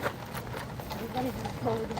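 Horses of the King's Life Guards clip-clop on a London street, their hoofbeats mixed into busy crowd noise with people talking nearby.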